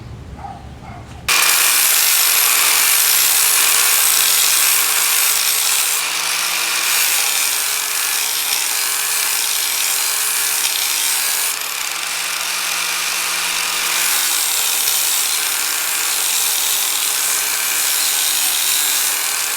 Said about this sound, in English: for grinding, I just use a 90-degree angle grinder with a flat disc